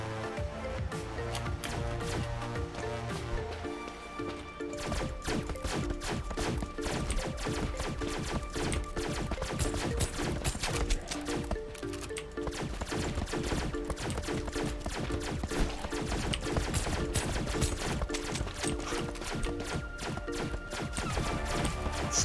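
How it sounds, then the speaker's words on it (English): Rapid gunfire rattles through a sci-fi colony game in dense, loud bursts of repeated shots, nearly continuous over a steady background of music and tones. "There's somebody down here shooting something."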